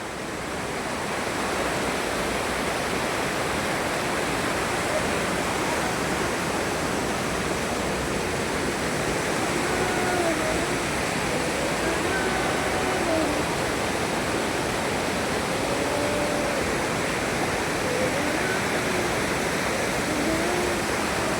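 Heavy water rushes steadily around a flooded house, a loud, unbroken roar of flow that holds constant throughout with no voices.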